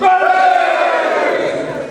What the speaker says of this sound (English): Lifeguards gives a cheer.